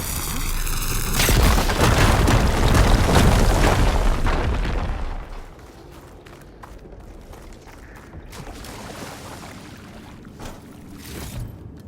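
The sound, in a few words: explosion in a video game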